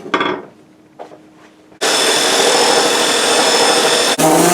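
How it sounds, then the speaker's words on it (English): A few brief scraping strokes, then a continuous loud abrasive whir of a power sander grinding against wood, stopping briefly near the end. "let's get to sanding this."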